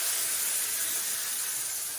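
Tempering poured onto cooked dal with spinach, a loud, continuous hiss of hot oil hitting the dish, steady and close for the whole stretch.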